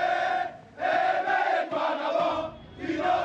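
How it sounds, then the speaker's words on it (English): A crowd cheers and shouts in the streets of Libreville, Gabon, celebrating military officers. Voices rise in loud, surging bursts with brief dips between waves. "Hundreds of people took to the streets in Gabon's capital, Libreville, to celebrate and cheer for the military officers"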